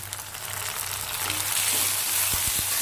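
Chopped tomatoes sizzle loudly in a pan of softened onions and curry leaves for a pepper kuzhambu, with a low hum and a couple of soft stirring knocks near the end.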